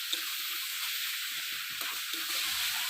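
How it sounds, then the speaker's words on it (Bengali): Potatoes being fried with spices for a jackfruit curry, a soft continuous sizzle and hiss from the pan with faint stirring scrapes, fairly quiet and unaccompanied by talk. "এবার একটু আলুর সাথে মশলাগুলো ভালোভাবে কষা হচ্ছে।"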